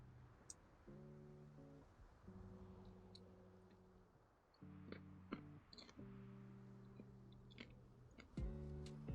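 Popcorn being chewed close up, with soft crunching bites over gentle lo-fi music, the munching coming in irregular bursts throughout.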